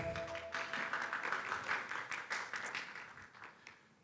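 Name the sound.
audience applause for the judges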